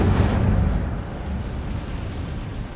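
A fiery Incendio spell cast inside a cave in the Hogwarts Legacy video game: a loud, rumbling burst that gradually eases into a sustained roar, with no voices.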